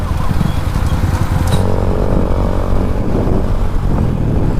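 A Husqvarna 250 and a KTM Duke 390 motorcycle race each other, with a loud, close engine drone that revs and shifts pitch across the stretch and no talk over it.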